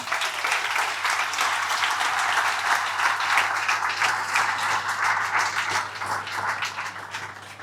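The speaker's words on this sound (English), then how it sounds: "big round of applause" Sustained applause from an audience at a company monthly meeting, a dense, even wash of many hands clapping that holds steady for the whole stretch.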